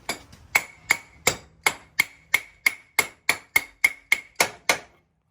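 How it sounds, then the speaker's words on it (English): A wooden block is tapped against the end of the axle shaft on a 2012 Can-Am Spyder, about fourteen sharp knocks in a steady rhythm, loud and close, with nothing else heard. "I'm going to put this against the end of the axle shaft and tap it just to kind of get it started to move"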